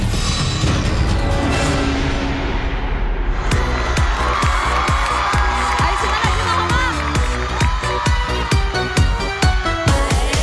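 Studio audience applause and cheering greet a singer stepping onto a Tibetan TV variety show stage, a dense crowd roar with sharp rhythmic claps and percussive hits building loud and steady.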